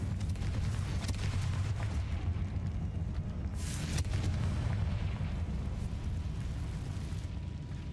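Confringo blasting-spell explosions in Hogwarts Legacy: dense, continuous booming rumble with heavy low-end, a brighter burst near the middle, loud and sustained throughout.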